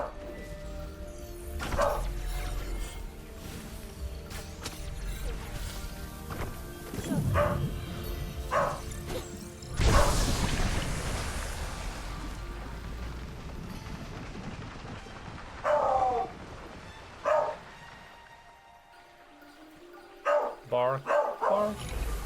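Dog barks from the video game Kena: Bridge of Spirits ring out in short bursts over a busy game soundtrack with rumbling ambience, several separate barks spread across the stretch.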